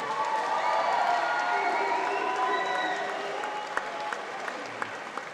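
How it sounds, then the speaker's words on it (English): A gym fight crowd applauds a fighter after a bout, dense clapping and some cheering that starts strong and slowly thins out, with a few sharp louder claps near the end. "a big round of applause for Sam Cottam from Tsunami Gym."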